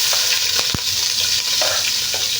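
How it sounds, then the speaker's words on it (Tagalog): Onion and garlic sauté together in a pan for a sopas, giving a loud, steady sizzle with a few sharp clicks and taps of a utensil stirring them around. "Ngayon igigisa ko ng ating sibuyas at saka"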